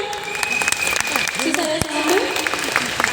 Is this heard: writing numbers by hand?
no